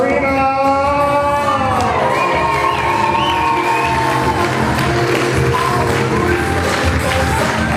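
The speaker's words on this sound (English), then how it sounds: "How about a big round of applause for Jackie's friends?" A wedding reception crowd cheers and applauds loudly, with shouts and whoops rising over continuous clapping in a large room, the cheering swelling and staying dense to the end.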